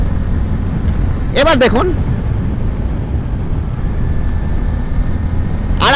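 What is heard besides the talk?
Bajaj Pulsar N160 motorcycle accelerating through gears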